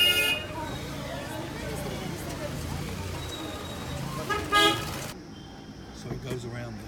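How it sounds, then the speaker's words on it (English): Busy street-market traffic in Kathmandu, Nepal, with short car horn toots over a dense murmur of vehicles and voices. People talk nearby throughout. "Street market."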